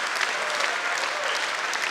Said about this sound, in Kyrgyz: Бир кол чаап коелучу.